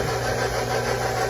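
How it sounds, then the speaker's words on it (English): A stand mixer with a paddle attachment beats four eggs, giving a steady, close, continuous motor hum with no break and no voices. "I'm going to start mixing it"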